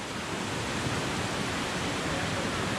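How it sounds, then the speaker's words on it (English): Tiered waterfall at Luang Prabang pouring into a turquoise pool, a steady, dense full-band roar of falling water that stays constant, close and loud, with no voices. "this is the bottom of several tiers of waterfall"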